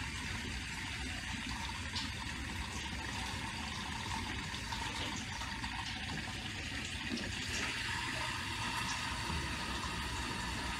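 Water filling the skimmer section of a split aquarium sump, a constant faint rushing and trickling flow that holds steady throughout with no other sounds over it.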